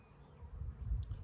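Honey bees buzz in an almond orchard during bloom-time pollination, a low, faint hum with a soft rumble beneath it, brief and steady.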